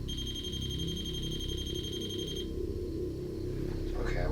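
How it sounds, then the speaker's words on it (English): A proximity alarm on a ghost-hunting trigger device emits a steady high electronic tone for about two seconds and then stops, over a low room hum, with a brief faint voice near the end. "a built-in proximity alarm that sounds whenever you get within a couple of inches from the device"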